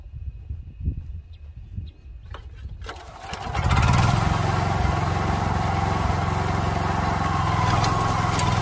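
A walk-behind cultivator cuts furrows and drainage channels in a field, its engine quiet at first, then revving up into a loud, steady, close mechanical roar that holds to the end.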